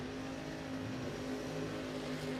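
A red Ford Mustang drag race car idles with a steady low engine rumble in the right-hand lane at a drag racing World Cup Finals event, fairly faint and continuous with no talk.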